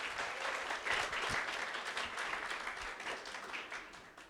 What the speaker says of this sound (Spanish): Un aplauso para Mateo, por favor.